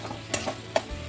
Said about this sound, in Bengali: দেখুন মশলাটা আমার প্রায় ভাজা হয়ে গেছে